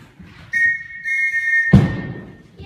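A Morse code tone for the letter A: a short beep followed by a longer steady one, clear and alone, then a sudden thud with a brief rustle.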